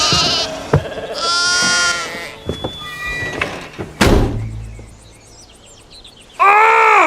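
Sheep bleat loudly in a film scene, a long sustained bleat early on and another at the end, separated by thumps, a sharp bang and quieter stretches.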